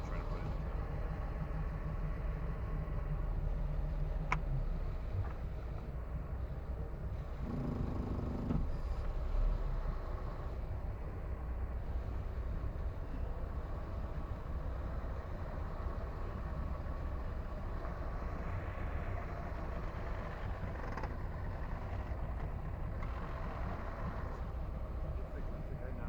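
A 1993 Maxum 1900SC boat's engine idles after carburetor cleaning, a steady low rumble running throughout at moderate level, with faint clanks and people talking in the background.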